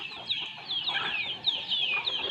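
Several chickens cluck and chatter nearby in a farmyard, overlapping soft clucks and higher squawky calls in a busy, continuous stream.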